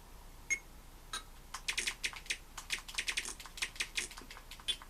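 Keys are pressed on an Amstrad CPC computer keyboard, starting as a few separate taps and then coming in quick, irregular clusters of close, fairly quiet clicks.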